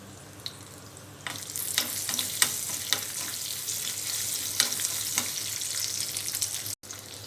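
Tempering seeds, garlic and dried chilies fry in hot oil in a pan on the stove for a mint and ridge gourd chutney. A steady, crackling sizzle with scattered sharp pops runs throughout, with no talking.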